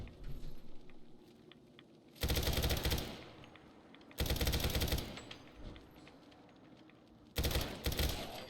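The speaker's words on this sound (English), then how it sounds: "So this gun is using 300 blackouts, so it should be mighty powerful." Bursts of automatic gunfire from a rifle chambered in 300 Blackout in modded Fallout 4, three loud sustained volleys of rapid shots separated by quieter pauses.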